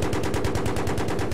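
Rapid automatic gunfire in the video game Battlefield 3, a continuous, evenly spaced burst of loud shots filling the whole moment with no talk over it.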